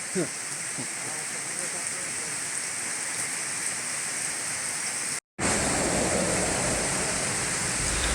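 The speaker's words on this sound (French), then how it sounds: "C'est la pluie." Heavy rain pours down during a thunderstorm in Cambodia, a steady loud hiss of drops hitting surfaces, with a brief cut-out partway through before the downpour resumes as strongly.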